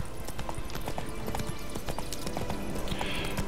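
Roach the horse galloping in The Witcher 3, rapid steady clip-clop of hooves throughout, fairly quiet and even, with no talk.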